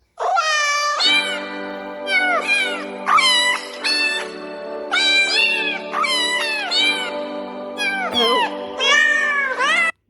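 A phone ringtone of repeated cat meows, clear and close, several in a row with short pauses between them, steady and fairly loud throughout.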